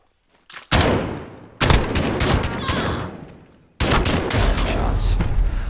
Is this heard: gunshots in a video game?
yes